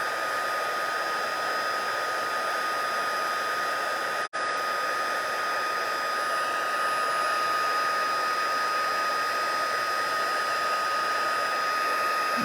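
A heat tool blows steadily and loudly, close by, as it melts embossing powder on a card, a constant whooshing hum with one brief dropout partway through and no talking.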